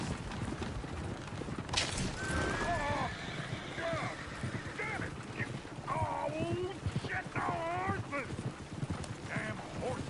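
Video game horse whinnies and snorts from Red Dead Redemption 2 rise over a busy backdrop of clopping hooves and rustling, with voices talking intermittently in a lively outdoor scene.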